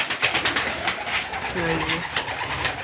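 Pigeons coo softly nearby, a low throaty warble rising out of scuffling and fluttering sounds.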